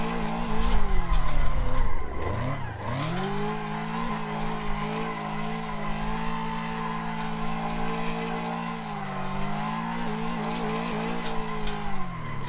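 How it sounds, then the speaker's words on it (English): Car drifting in a racing video game, with a loud engine revving and falling sharply as the tires squeal, then a long sustained slide with a steady engine whine and screeching rubber. "the car you want to start off drifting in"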